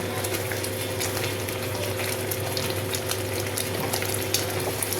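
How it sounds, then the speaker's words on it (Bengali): Spices with salt and Kashmiri chilli powder fry in a pan with a constant, close, dense sizzle and hiss, steady throughout with no pauses. "সব কিছু দিয়ে ভালো করে কষাতে হবে"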